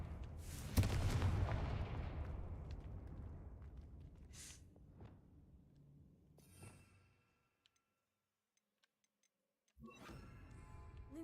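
A Confringo explosion spell cast in a Harry Potter video game, a loud burst up front decaying over several seconds, followed by a few sharp ticks and a fresh rumble after a near-silent pause.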